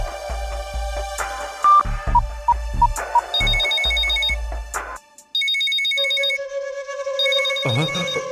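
A phone ringtone plays during a call in a cartoon, with repeated melodic electronic rings and tones mixed with other bright effects, loud and close, ending in a short burst of sound.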